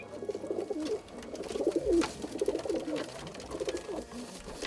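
English fantail pigeons coo in soft repeated rolling phrases, close and clear, several calls overlapping in a steady murmur.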